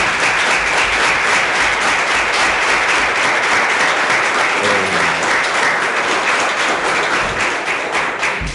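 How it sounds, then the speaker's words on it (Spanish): Audience at a book presentation breaking into loud, sustained applause, many hands clapping in a dense, even roar that holds steady for several seconds with no speech over it. "un currículo como este se merece un aplauso y un reconocimiento de todas las personas"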